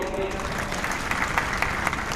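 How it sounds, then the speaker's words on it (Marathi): Crowd applause at a political rally, steady clapping from many hands, loud and dense, with crackling bursts throughout and a voice faintly underneath. "बघा कशा टाळ्या वाजतात"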